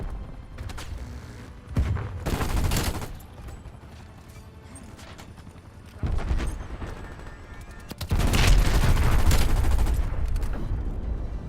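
The 410 Ironhide shotgun fires in a Call of Duty Black Ops Cold War zombies match, loud blasts in uneven bursts separated by quieter mechanical handling, with a sustained burst of fire near the end.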